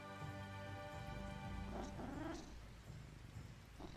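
A cat in the video game Edge of Eternity gives a brief meow over a steady, soft ambient music bed, faint and mixed low.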